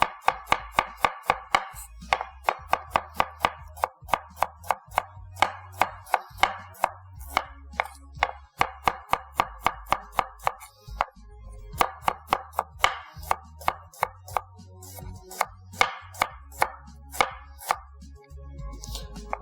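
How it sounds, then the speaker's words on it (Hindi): Onion being sliced with a knife on a cutting board, a long run of crisp, evenly paced chops close by in quick bursts with brief pauses, no talk. "प्याज को करेंगे स्लाइस।"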